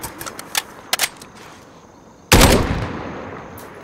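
Call of Duty: Warzone combat with a few scattered sharp shots early on, then a loud close blast or burst that rings out and fades slowly.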